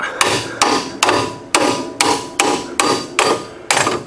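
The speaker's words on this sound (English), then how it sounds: "go ahead and give the strut rod a tap" A hammer raps the strut rod of a 1970 Ford Mustang Mach 1 suspension with about nine sharp metallic strikes at an even pace, each close and loud with a short ringing decay.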